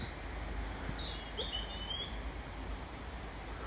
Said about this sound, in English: at least the birds are chirping.